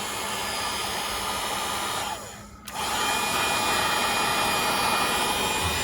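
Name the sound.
heat gun heating Chevrolet tailgate emblem adhesive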